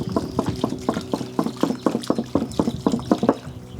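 Water poured from a can onto freshly planted plants on the porch of an 1840 homestead, gurgling and splashing in a quick, irregular run of close bursts.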